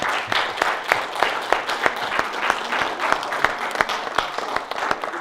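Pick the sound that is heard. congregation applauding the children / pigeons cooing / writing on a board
congregation applauding the children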